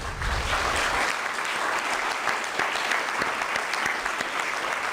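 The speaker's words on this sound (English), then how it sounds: "I would like to ask for applause for all the mayoral candidates" Applause at a town candidates' forum in Florence for the mayoral candidates, a steady wash of many hands clapping at moderate distance with no talk over it.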